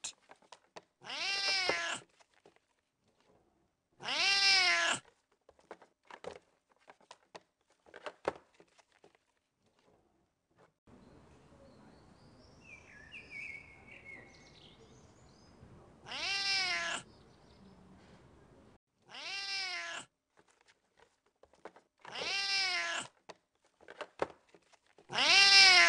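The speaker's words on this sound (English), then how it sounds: "Find the Siamese cat." A Siamese cat meows in the animal-finding game Find Them All - Animal Collection, about seven clear, separate meows spaced irregularly, some in quick pairs, with quiet gaps and soft background game noise between them.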